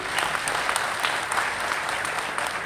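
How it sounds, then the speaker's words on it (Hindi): A crowd at a rally for private-sector job reservations for SC/ST communities breaks into sustained, dense clapping that holds steady throughout. "इसलिए इन सबके लिए जोरदार ताली होनी चाहिए।"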